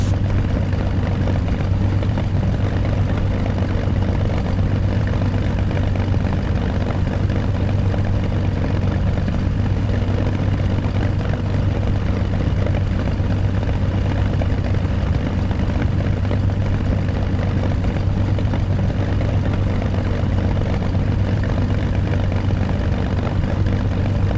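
A Bf 109 K-4 propeller engine idles while the fighter taxis to parking in the DCS flight simulator, a continuous, even, low droning hum with no other sounds over it.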